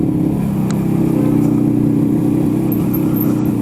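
A Rajdoot 350 motorcycle engine runs steadily while riding, a loud, continuous low-pitched thrum that stays close and even throughout, with no voices over it.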